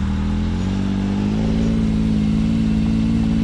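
A 2021 Can-Am Maverick X3 X RS Turbo RR UTV drives on dunes. Its 195 hp turbo engine drones loudly and close, and the pitch climbs steadily as it accelerates.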